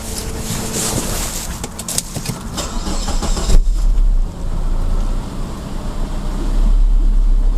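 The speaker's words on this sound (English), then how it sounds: "there is no trouble at all starting the car directly from this" A car engine cranks and fires up when powered by a TOPDON JS2000 jump starter, a loud start that drops into a steady idle running on alone.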